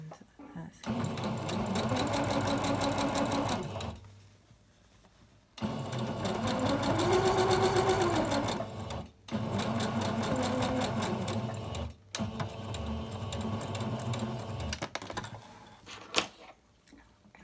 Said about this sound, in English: we're back at the machine for the last step, and that's to do a neat top stitch along the edge, close the gap